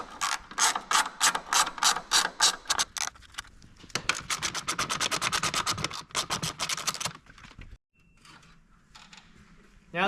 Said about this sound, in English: we're going to remove the 4 bolts running across the front to remove the grill. These are 10mm.